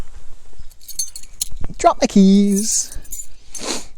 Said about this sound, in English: Drop my keys.